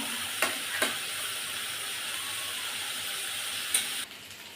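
Jackfruit seeds and taro stalks fry in a pan with a steady, close hiss of sizzling oil, broken by a few sharp clicks as the food is stirred, before the sizzle drops away near the end.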